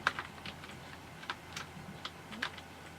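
Clicky keystrokes on a budget Wish gaming keyboard tap out in irregular bursts during gameplay, each key press sharp and close, separated by short pauses.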